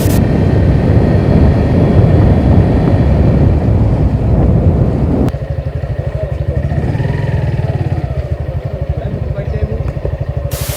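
Several motorbikes set off together on a morning ride toward Mithamain, a steady loud engine drone with rushing wind, the tone dropping and settling into a lower rumble halfway through as speech is faintly present.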